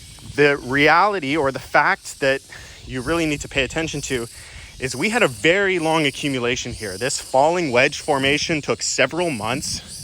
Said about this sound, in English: I don't know if you guys can absolutely hear that cicada in the background.